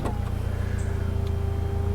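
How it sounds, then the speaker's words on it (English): The electric folding hardtop of a 2012 E89 BMW Z4 sDrive28i M Sport roadster closes at the touch of a button: a steady mechanical motor whine, close and moderate, running continuously over a low idling hum. "I'll just put the roof up so you can see all of that working."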